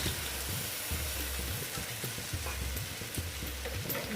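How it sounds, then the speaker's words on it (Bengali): Water poured into a hot pan of masala for Afghani egg curry sets off a steady loud sizzle with stirring scrapes, continuous for the whole stretch with no voices. "প্রথমে আমি জলটা দিয়ে দিচ্ছি মিক্সির কাপটা দিয়ে যে জলটা ছিল ওটা আমি দিয়ে দিলাম"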